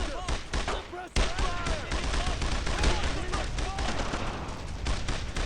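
Rapid gunfire from the World War II shooter Brothers in Arms: Road to Hill 30, repeated sharp shots and bursts crowding a loud, dense battle soundtrack, with voices calling out throughout.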